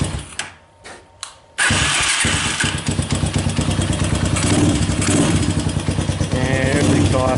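A motorcycle that has sat unused for a while: a few cranks of the starter, then the engine catches and settles into a loud, steady, pulsing idle close by.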